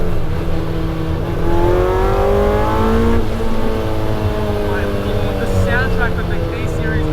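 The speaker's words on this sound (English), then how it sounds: "Soundtrack of the K series engine is so good." A Honda CRX with a K24 engine swap accelerates hard through the gears, its engine note rising in strong harmonic sweeps with a brief dip at a shift, loud and close throughout; a voice is faintly present alongside.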